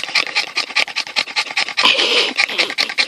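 A dog pants rapidly and close by in a farm setting, quick rhythmic breaths with some rubbing and scuffling against fur, no talk over it.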